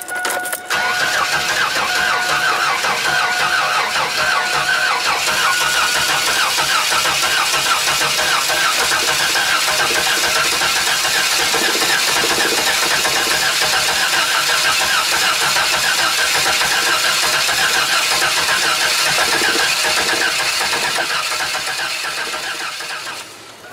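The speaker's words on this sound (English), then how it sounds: "Here it comes." A 2005 Chevy Astro van with a wet-weather no-start problem cranks loudly, then catches and runs on at a steady, close, mid-pitched engine idle for about twenty seconds before cutting off.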